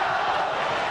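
Hockey arena crowd at an Islanders home game against the Flyers, chanting in tribute to goaltender Tommy Salo; a dense, steady roar of many voices fills the space without a break.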